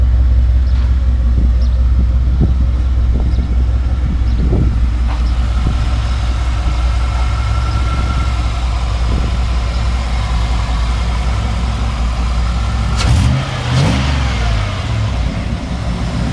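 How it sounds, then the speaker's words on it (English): A deep, loud LT1 V8 engine in an S10 prerunner pickup rumbles at idle with a few quick throttle blips, then one sharper rev surges and falls away near the end. "this truck just sounds great"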